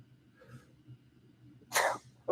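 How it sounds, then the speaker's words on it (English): A single sharp sneeze bursts out after quiet breathing, close and loud, followed by the start of another noisy exhale. "I had to sneeze."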